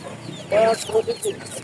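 Chickens clucking at a Bangladeshi poultry market selling ducks, chickens and quail, several short clucks and squawks close by, with market noise in the background.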